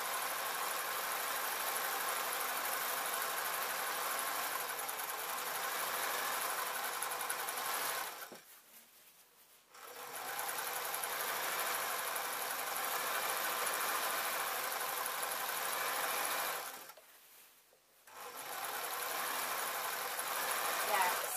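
Sewing machine running in long, steady stretches of buzzing motor hum, pausing briefly twice before starting up again at the same even pace.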